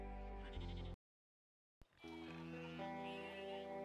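Sheep bleating in the video game Broken Roads, with a wavering bleat, a sudden complete dropout of silence, then more bleating over a humming tonal game background, all fairly faint.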